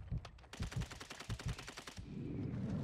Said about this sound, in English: Somebody was shooting at me?